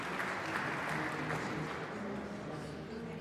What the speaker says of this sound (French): les surprendre avec des sons d'applaudissements